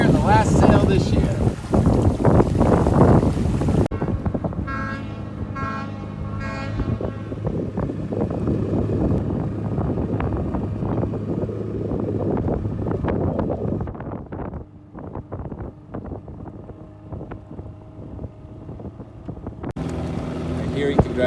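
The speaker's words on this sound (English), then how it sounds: "I love the aeolian harp of the sound of the wind going through the rigging" Wind blusters steadily through a sailboat's rigging with a faint whistling hum, and voices speak briefly over the gusts.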